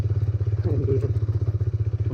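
A motorcycle climbs a rocky off-road track near Taxila, its engine thumping in a steady pulsing rhythm up close, with some clatter from stones under the wheels.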